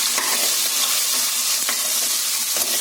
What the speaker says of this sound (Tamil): எண்ணெயில் வதங்குறதுக்காக ஃபஸ்ட்டு முருங்கை போடலாம்.